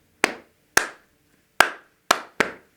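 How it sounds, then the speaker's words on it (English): Five sharp hand claps in an uneven rhythm at a school concert, close and loud with short decays and silence between them. "Now I'm going to add 2 more claps in to make that rhythm a little bit more interesting"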